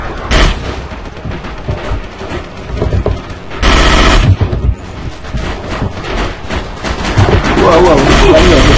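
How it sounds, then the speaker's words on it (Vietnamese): Gunfire in the Battlefield Vietnam video game, loud and dense throughout, with bursts of shooting and heavy blasts that fit machine gun fire, mixed with other battle noise. "Wow, bắn nhiều, quá nhiều."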